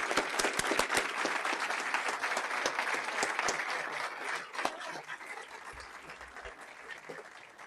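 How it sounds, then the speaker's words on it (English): An audience claps for honorees at an awards ceremony, with dense, sustained applause that swells at the start and slowly thins out, while a faint voice carries underneath. "let's give her a big round of applause"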